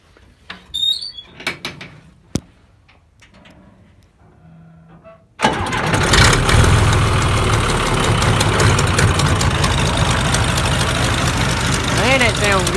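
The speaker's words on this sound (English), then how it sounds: "I want to give you an update on the new straight pipe on my John Deere tractor that I put on yesterday. Let's hear it run." A John Deere 3130 tractor engine fitted with a new straight pipe exhaust starts up after a few quiet seconds and then runs loud and steady, its open exhaust roar and rumble filling everything close by.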